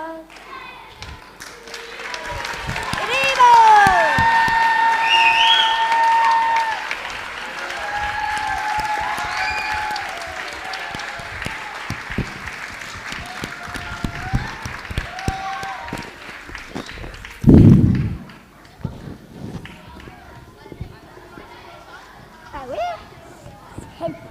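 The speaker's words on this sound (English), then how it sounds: "Let's give them another big clap" An audience applauds a children's class performance at a school end-of-term show, loud sustained clapping from a crowd with children's voices mixed in, swelling then tapering, with a short loud thump near the end.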